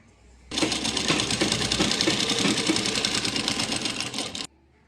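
Electric sewing machine running a continuous pressed seam on a child's pathani suit fabric, a steady close whirring stitch rhythm lasting about four seconds alone before stopping abruptly.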